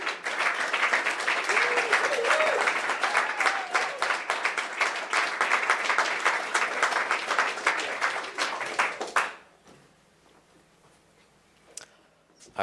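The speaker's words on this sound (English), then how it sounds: "Let's give him another round of applause." Applause and scattered cheers ring out for a presenter at a Bitcoin hackathon's finalist presentations, dense clapping for about nine seconds before cutting off to near silence, with a faint voice at the end.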